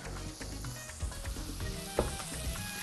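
Roasted herb potatoes being stirred and turned in a hot pan, soft sizzling under scraping and clinking of a utensil against the tray, with a few sharper knocks, close and fairly quiet.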